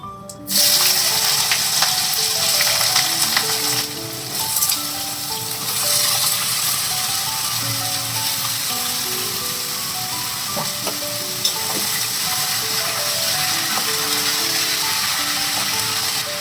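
Cut potato and pumpkin hit a hot pan with kalo jeere, starting a loud, steady sizzle that runs on with occasional clinks and scrapes, no voices.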